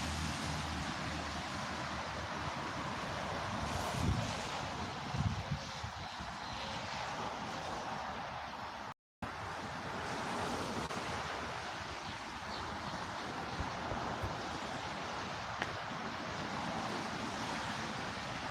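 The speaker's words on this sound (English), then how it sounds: "It's raining out here." Steady rain falls outdoors as a continuous broadband wash, with gusts of wind buffeting the microphone throughout and one brief cut to silence near the middle; no talking.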